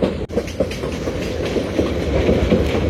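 Titas commuter train rolling on the rails near Tongi Junction, with a close, loud steady rumble and rhythmic clickety-clack of wheels over rail joints for a few seconds and no voices.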